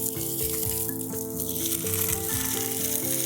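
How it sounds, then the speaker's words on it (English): Seeded peppers tossed in oil sizzle steadily on a hot outdoor griddle, a continuous close frying hiss with faint stirring scrapes. "Again, listen to the sizzle."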